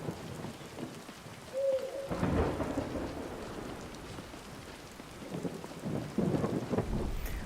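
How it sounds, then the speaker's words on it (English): Steady rain pours in a Skyrim VR thunderstorm, with rolling thunder swelling around the two-second mark and again near the end, all unbroken by voices. "And we can watch the storm."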